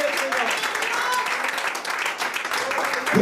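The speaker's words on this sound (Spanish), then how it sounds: "Alguien dé un aplauso al Señor." A church congregation applauds in a steady, dense patter of clapping at moderate volume, filling a sermon hall for a few seconds with no clear break.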